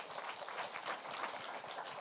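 A church congregation claps together after a small-group report, a steady dense patter of hands that holds for about two seconds at moderate level with no voices over it.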